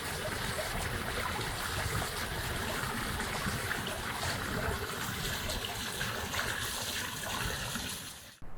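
Water gushes steadily from a rock in a continuous stream, a full broadband rush that holds even and close for the whole stretch before cutting off abruptly at the end.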